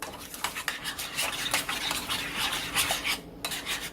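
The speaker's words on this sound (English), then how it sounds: "you're just going to add the whole package of your dry onion mix, and you're just going to stir that in there really good." A spoon works a whole packet of dry onion mix into a two-ingredient French onion dip in a bowl, making a steady run of close, wet scraping and rubbing strokes against the bowl's sides, with no talking.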